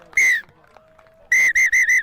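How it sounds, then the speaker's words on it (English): A rugby referee's whistle at the end of an international match between Germany and the UAE: one short shrill blast, a pause, then one longer blast followed by three quick sharp bursts, loud and close. "Referee blowing the final whistle."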